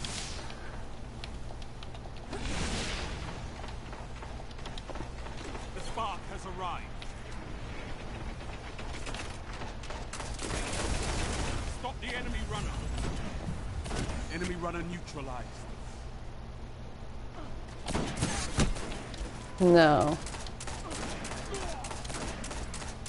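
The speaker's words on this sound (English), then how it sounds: "There's like four people shooting him." Gunfire in the Destiny video game's Iron Banner mode, bursts of rapid shots and blasts coming in clusters across the stretch, with players talking over the action.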